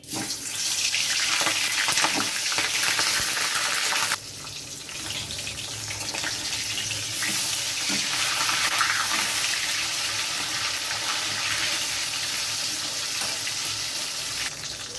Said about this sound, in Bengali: তেলটা গরম হয়ে গেছে এবার আমি মাছগুলো দিয়ে দিচ্ছি